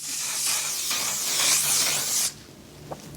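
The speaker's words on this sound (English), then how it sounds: "let me spray this for you guys and show you guys what I mean" A makeup setting spray bottle hisses in a long, steady continuous mist for about two seconds, close and fairly loud, then stops abruptly, followed by a faint click.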